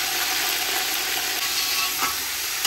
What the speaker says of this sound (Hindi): चिकन ऐड कर देते हैं।